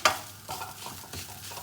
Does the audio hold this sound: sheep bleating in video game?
no